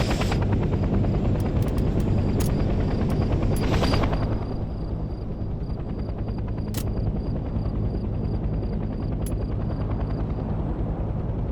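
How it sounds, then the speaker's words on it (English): A transport helicopter idles in the Vietnam-era shooter Hell Let Loose: Vietnam, its rotor thrum and whining engine droning steadily and close, slightly louder at first, with a few faint clicks over the constant noise. "The transport helicopter is used primarily to transport squads quickly across the battlefield."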